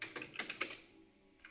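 Quick burst of close computer keyboard typing, a rapid cluster of light clicks followed by a pause and one last faint tap, quiet and without talk.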